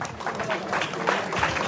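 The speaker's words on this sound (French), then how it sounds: "vous pouvez les applaudir" A crowd at a customary Congolese wedding ceremony in Brazzaville applauds in a moderate, uneven patter of clapping with voices mixed in.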